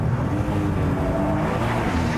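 Engine of a Nissan Juke-R during a slide, a steady broadband motor roar holding at an even level throughout, with no talk.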